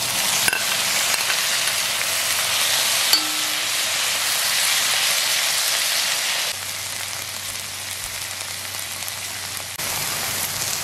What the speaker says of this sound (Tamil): இப்போ இந்த பச்சை மிளகாயை சேர்த்துக்கிறேன் அப்புறம் தக்காளி